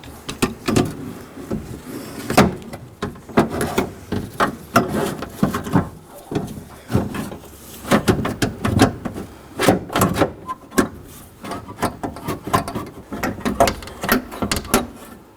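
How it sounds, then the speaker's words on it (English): Installing a new front power window regulator into a 2013-2019 Nissan door: a run of close clattering knocks, metal scrapes and rattles in irregular bursts as the assembly is worked into the door, with no speech. "Now we're going to install our new window regulator."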